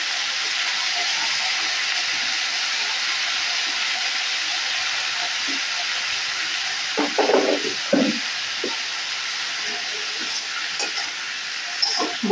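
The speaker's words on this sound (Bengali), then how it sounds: "ভালো করে নেড়ে চেড়ে" A Bengali chachchari is stirred in a pan with green chilli, poppy seed and mustard pastes, giving a soft continuous sizzle and hiss broken by a few clattering spoon scrapes midway.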